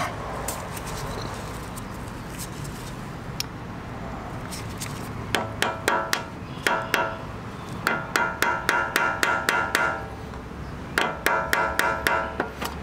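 Sharp metallic hammer taps on a lock washer during a sprocket change on a Kawasaki Versys X 300 motorcycle ring out in quick bursts of several strikes, separated by pauses, close by and fairly loud against a quiet background.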